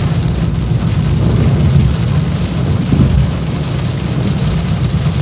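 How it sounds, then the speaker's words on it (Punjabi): A loud, continuous wash of heavy rainfall with a low rumble underneath, unbroken and steady from start to finish. "ਲੋ ਜੀ ਇੱਧਰ ਨੂੰ ਪੂਰਾ ਮੀਂਹ ਸ਼ੁਰੂ ਹੋ ਗਿਆ"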